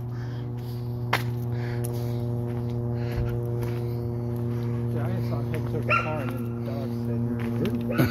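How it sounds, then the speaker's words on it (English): Police K9 dog on a search, barking and whimpering in short yips over a steady engine-like hum, with people talking nearby. "Guess the dog got a hit over there."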